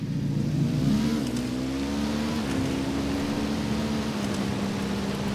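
A motorbike engine in a video game revs up loud and close, its pitch climbing early and then holding at a steady, throaty drone for several seconds with no talk.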